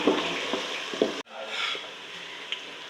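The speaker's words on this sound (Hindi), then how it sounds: "लहसुन अदरक को अच्छी तरह भून लेती हूँ।" Garlic-ginger paste fries with browned onions in a pan, a steady close sizzle broken by stirring scrapes and a brief dropout midway, with no talking.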